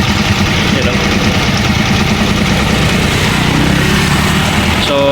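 A noisy vehicle engine idles continuously at close range, a steady low rumble with rapid mechanical ticking throughout, and a brief higher tone near the end.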